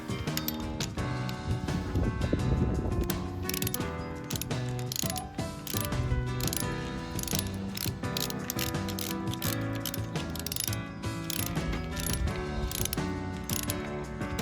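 An Invictus EM tool collar being tightened gives a rapid, continuous stream of loud, close ratcheting clicks that carries on unbroken for the whole stretch.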